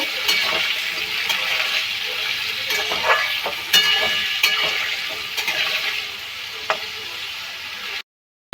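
Mixed vegetables for a paneer dish fry in a pan with a steady close sizzle, punctuated by occasional scrapes and clinks of stirring, before the sound stops suddenly near the end.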